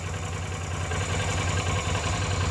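A Yamaha Virago XV250 motorcycle engine idles steadily after a carburetor plunger fix and idle adjustment, a loud, close, even low throb with constant rumble and no voices.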